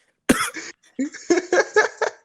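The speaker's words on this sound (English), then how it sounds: "take the mask off, and cough" One person coughs, starting with a sharp burst and then a quick string of five or six short coughs, close and clear against silence.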